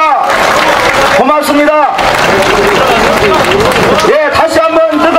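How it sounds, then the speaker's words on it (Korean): A political rally crowd in Yeongdeungpo, Seoul, claps in loud, dense, sustained applause mixed with cheers, while an amplified speaker on a PA talks over it in short phrases. "다시 한번 뜨거운 박수 부탁드립니다"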